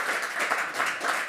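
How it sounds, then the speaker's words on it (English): An audience at a cybersecurity and data protection event applauds, a short burst of dense clapping with uneven swells, moderately loud, and no talking over it. "Can we have a massive round of applause for Lindy?"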